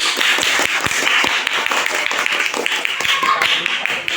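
A classroom of students claps for a student group, a dense, steady patter of many hands filling the room, with voices faintly mixed in.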